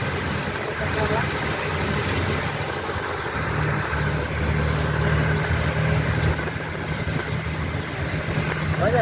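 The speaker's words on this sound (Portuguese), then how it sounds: "O caminhão de água tá passando cada hora, hein?" A water truck rolls along a ring road in São José dos Campos during heavy rain, its engine drone steady and continuous under rain noise while people talk nearby.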